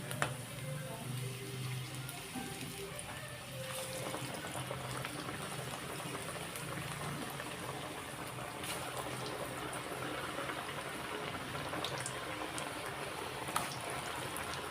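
Onion bonda batter frying in hot oil gives a steady, dense sizzle that stays close and continuous throughout, with no talking.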